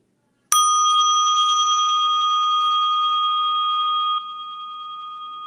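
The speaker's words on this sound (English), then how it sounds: "I have this little Tibetan bell that I ring." A small Tibetan bell struck once and left ringing, a sharp attack followed by a steady, bright sustained tone with clear overtones that fades gently over several seconds, alone in a quiet room.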